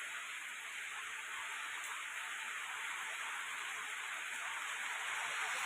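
Steady rain falls in a dense, even hiss that holds alone at moderate level from start to finish, with no voices or other sounds breaking through.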